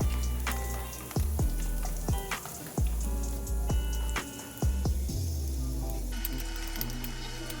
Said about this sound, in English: in that very same pan, using the bacon fat, we will be sauteing our garlic and onion